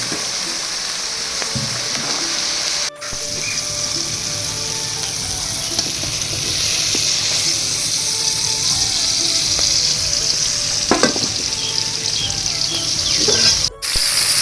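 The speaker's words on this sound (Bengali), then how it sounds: "ক্যাপসিকামের সাথে মটরশুঁটিটাও একসাথে ভেজে নিচ্ছি" Capsicum and peas sizzle steadily in a hot pan, a constant crackling hiss with occasional stirring scrapes and clinks, close and fairly loud.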